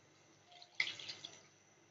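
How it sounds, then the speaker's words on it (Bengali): Water poured into a pan of pointed gourd and fish being cooked, a short splash and trickle rising suddenly and fading within about a second, close and fairly quiet. "জলটা দিয়ে দেব।"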